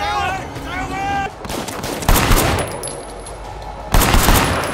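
Gunfire in the video game Sleeping Dogs comes in loud bursts of rapid shots, with a voice talking over it between the volleys.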